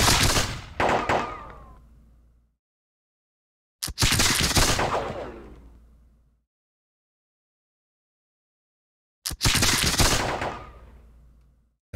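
Three separate musket volleys in Campaign 1776, each a sharp crackling burst of many shots fired together that rolls and fades into silence, spaced several seconds apart.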